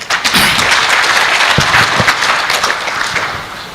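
A conference audience at an education event in Kenya gives a round of applause, a dense, sustained wash of many hands clapping that stays loud throughout and thins slightly toward the end.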